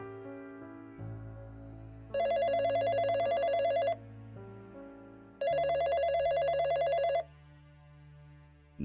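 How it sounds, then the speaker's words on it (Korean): Two bursts of a trilling telephone bell, each about two seconds long, ringing over a soft musical background with a short pause between them. "그러자 또다시 전화가 울렸어"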